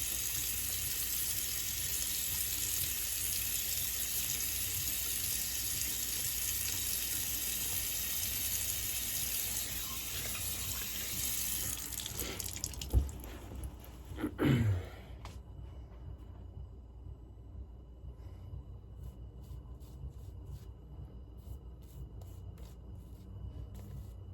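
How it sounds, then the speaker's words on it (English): A faucet runs with a steady soft hiss while the face is wet before a straight-razor shave, then stops, followed by a couple of brief splashing and rubbing sounds and quiet handling noise. "Let's wet the face first."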